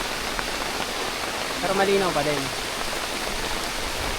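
Heavy rain pours down at a clear spring in Nagcarlan as a steady, dense hiss, with a voice speaking briefly over it midway.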